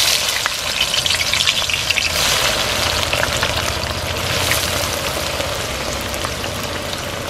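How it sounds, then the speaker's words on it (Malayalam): Onions fry in sunflower oil for an Arabian dum biryani, a loud, dense, close-up sizzle that crackles steadily like heavy rain without pause. "അപ്പം നമ്മൾ ഉള്ളി ഫ്രൈ ചെയ്യണം"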